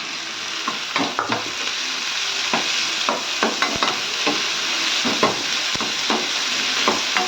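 Chopped tomato being sautéed with ridge gourd in a pan for a Tamil stir-fry: steady sizzling with scattered spatula taps and scrapes close by, and no voices.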